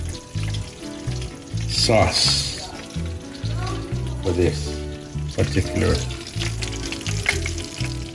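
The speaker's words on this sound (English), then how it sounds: "Menpachi, frying the deep menpachi." Menpachi fish coated karaage style deep fry in a hot frying pan, a steady close sizzle and bubbling crackle running throughout with a few stirring clatters, while someone talks over it.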